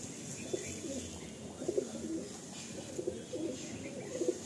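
A female Madrasi pigeon coos several times, the soft, low calls coming in short clusters over a faint background hiss.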